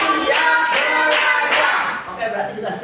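A classroom of children clapping a counting rhythm game, short bursts of hand claps in a patterned sequence, close and loud, mixed with voices chanting along.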